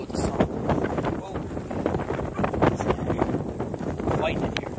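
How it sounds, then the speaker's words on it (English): Strong gusting wind batters an umbrella on a long-distance trail, producing rough, rumbling buffeting against the microphone with irregular flapping bursts, loud and close. "the wind is kicking my butt, blowing me all over the place"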